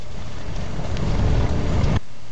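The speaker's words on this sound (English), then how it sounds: "Just listen to the engine and the transmission, how it's loud screaming." A hot rod Chrysler's engine and transmission roar steadily and loudly while accelerating on a highway, a dense broadband drone with wind noise that cuts off abruptly near the end.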